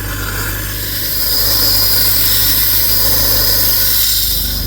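Cleaner is sprayed into a hole toward the evaporator of a Kia Sportage, a steady close hiss with a low mechanical hum underneath, running continuously without talk.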